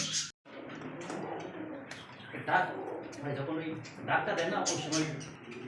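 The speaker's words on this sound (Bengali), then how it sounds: "এটা হচ্ছে আমাদের জনপ্রিয় একটা কিন্তু ঘুঘু অনেকে জানেন হচ্ছে ডায়মন্ড ডাব ঘুঘু" Diamond doves coo softly in a bird market, their low repeated calls blending with someone talking over them.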